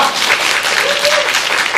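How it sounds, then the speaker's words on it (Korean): Audience applause after a speaker introduces herself at a Korean youth community panel, steady broadband clapping filling the short stretch without talk. "박수 부탁드립니다."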